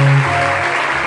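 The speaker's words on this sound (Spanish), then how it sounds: "Denle ese aplauso fuerte al Señor." A congregation at an evangelistic church service in San Miguel, El Salvador, breaks into a short burst of loud applause over sustained musical tones.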